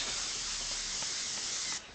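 A steady hiss of an airbrush spraying paint runs for about two seconds, then cuts off sharply.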